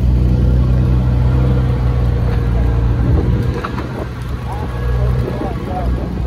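Steady low truck engine rumble heard from the open back of a truck travelling on a village road, with wind and road noise filling the sound throughout.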